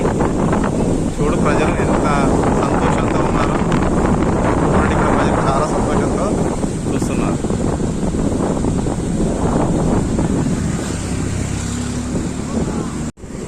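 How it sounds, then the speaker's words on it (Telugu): A loud, continuous roar of a flooded, overflowing stream rushing at a check dam at Devaruppula, close and turbulent, with wind buffeting the microphone throughout. "దేవరుప్ల చెక్ డ్యాం వద్ద పెరుగుతున్న వరద ఉధృతి"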